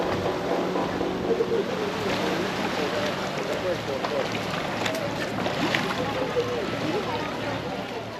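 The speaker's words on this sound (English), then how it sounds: "to get this dinghy out to the boat" Steady engine drone and broadband wind rush of a small dinghy moving across water off Santa Cruz Island, with water slapping faintly beneath.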